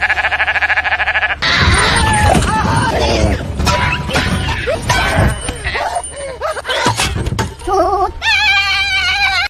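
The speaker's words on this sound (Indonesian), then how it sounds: "seekor kambing yang berdiri di tengah jalan" Goat standing in the middle of a road, bleating in several short wavering cries near the end, following a stretch of loud dramatic crashes and screaming voices in a film scene.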